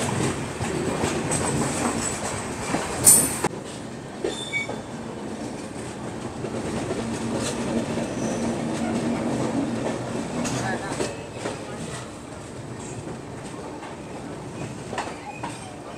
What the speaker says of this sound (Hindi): चिरिमिरी अनूपपुर एक्सप्रेस है भाई ये